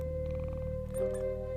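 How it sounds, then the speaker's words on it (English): A mother cat purrs in a deep, steady, continuous low rumble, close up and even, with no voices and no pauses. "The mother purrs from the very first second,"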